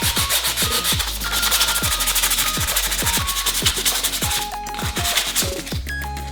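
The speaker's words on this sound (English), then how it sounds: "So I'm going to sand all of this down" Harsh, rhythmic sanding of a rusty brake caliper, repeated scraping strokes with a gritty rasp, loud and close, with clinks of the part moving.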